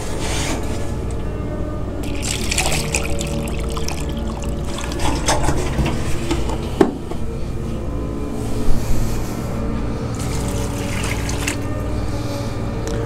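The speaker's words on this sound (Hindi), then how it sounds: "और इसमें 4 प्याली पानी डालेंगे।" Water is poured into a pot of dal being cooked Punjabi dhaba style, a steady liquid trickling and filling sound with light rubbing and clinking of utensils nearby.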